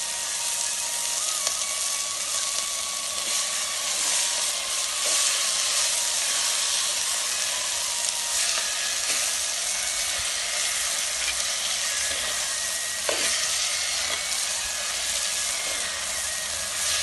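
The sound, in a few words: sautéing in a pan before adding kali ni bhaji greens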